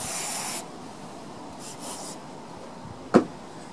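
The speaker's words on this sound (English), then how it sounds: "we just use the brake cleaner to wipe any excess off so it doesn't contaminate your new pads" Brake cleaner sprayed onto a hydraulic bicycle disc brake: a steady close hiss for about half a second, then quiet room tone with a faint rustle and a short sharp click near the end.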